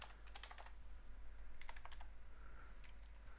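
Keys tapped on a computer keyboard while a password is entered, in three quick bursts of close clicking with short pauses between them.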